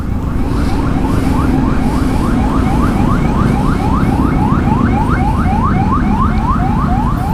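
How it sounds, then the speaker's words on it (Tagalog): Ambulance siren wailing behind motorcycle riders on a weekly group ride: loud, rapid repeating yelp sweeps that continue steadily throughout, over a low rumble of road and engine noise. "Wait lang, may ambulance sa ating likod, mga insan."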